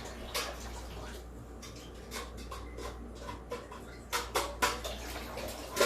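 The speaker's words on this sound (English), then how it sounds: "I'm gonna rinse this, and then I'm gonna add some water in here." A kitchen tap runs quietly as a pot is rinsed, a soft steady flow punctuated by clinks and splashes that grow busier toward the end, heard without talk.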